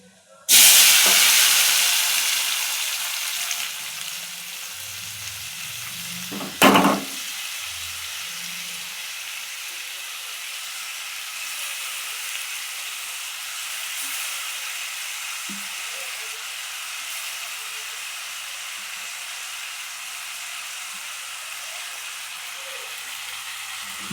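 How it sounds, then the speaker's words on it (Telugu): Tomatoes hit hot oil left from frying dried red chillies, a loud initial sizzle that settles into a steady, close hiss, with a single clunk partway through. "మనం ఎండుమిర్చి వేపుకున్న ఆయిల్లోనే టమోటాలు కూడా వేయించుకుందాం."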